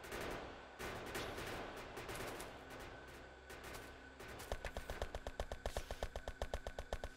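Rapid explosive shots fire in the game Factorio, a dense barrage of gunfire giving way to a steady, evenly spaced run of sharp, loud blasts.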